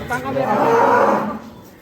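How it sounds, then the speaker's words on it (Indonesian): A sacrificial cow being unloaded from a truck gives one long, loud, close moo at a Qurban cattle delivery, with background voices. "Ini sapi terakhir guys yang akan diturunkan hari ini."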